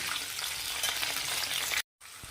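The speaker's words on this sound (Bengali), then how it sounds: "এবার বাঁধাকপিটা বসিয়ে দিই" Cabbage fries in a pan and is stirred, giving a steady, moderately loud sizzle that breaks off briefly near the end, with no voices.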